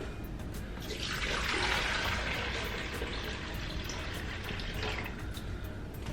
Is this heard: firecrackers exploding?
no